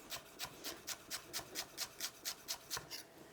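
A kitchen knife finely dices a shallot on a cutting board, about a dozen quiet, evenly spaced chopping strokes in a steady rhythm, close up and alone.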